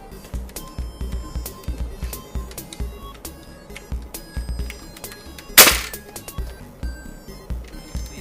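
Two Nerf Cyber Stryke Gear Defender blasters are fired together, giving one sharp, loud pop-and-whoosh of simultaneous dart shots midway, amid softer clicks and handling taps of the plunger blasters.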